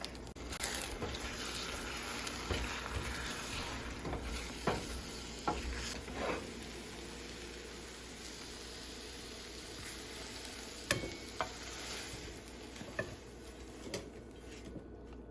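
Egg whites with a whole egg and seasoning fry in a pan with a steady soft sizzle, broken by occasional scraping taps of a utensil stirring, close and moderately quiet with no talk.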